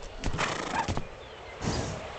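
A horse in the farming video game Farmer's Life whinnies, and its hooves clip-clop in short bursts. The sound is soft and quiet and plays with no talk over it.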